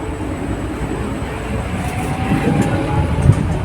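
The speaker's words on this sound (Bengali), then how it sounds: "আর এই আমাদের ট্রেন" A beach train in Busan, South Korea, running along the coast with a continuous close rumble and faint rail clatter that swells slightly toward the end, without speech.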